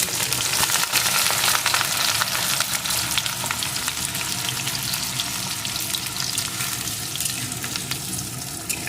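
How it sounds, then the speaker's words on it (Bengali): Chopped onions fry in hot mustard oil for a restaurant-style chicken gravy, giving a steady, dense sizzle with bubbling crackle throughout. It stays loud and close with no voices. "একটু ভেজে নেব পেঁয়াজটাকে"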